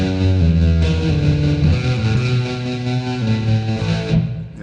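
A Zoom R8 multitrack recorder's 60s spy movie tone preset plays a loud, sustained distorted guitar-like line with effects, steady chordal notes shifting pitch over several seconds before cutting off.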